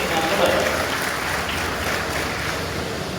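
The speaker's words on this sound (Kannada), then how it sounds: "ದೊಡ್ಡ ಚಪ್ಪಾಳೆಯನ್ನ ಆ ವ್ಯಕ್ತಿಗೆ ನಾವು ಕೊಡೋದು." Audience applause at an award and book launch ceremony in Jamkhandi, a dense continuous wash of clapping heard steadily for a few seconds with a slightly rough, windy texture.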